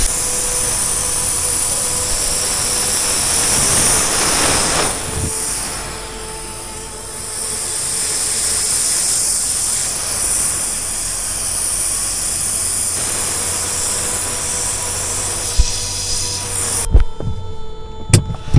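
Steady loud hiss of LPG gas escaping from a leaking caravan gas tank fitting, continuous with a faint hum underneath, then cut off near the end with a few clicks and knocks.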